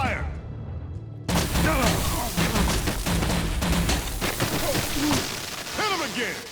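A volley of gunfire in the Batman: The Enemy Within game, a burst of rapid cracks and impacts that suddenly erupts after a quieter stretch, with shouting voices mixed in.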